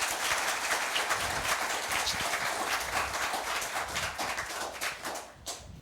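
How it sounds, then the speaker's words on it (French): Audience applause for two competing high schools at a quiz show, a dense, continuous clapping that holds steady at close range and then tapers off near the end. "je vous demande d'applaudir les 2 lycées"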